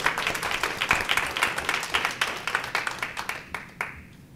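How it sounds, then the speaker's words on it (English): Members of a school district governing board meeting clap together in a room, a fairly sparse round of distinct, uneven claps that thins out and fades toward the end, with no talking over it. "Let's applaud all of us."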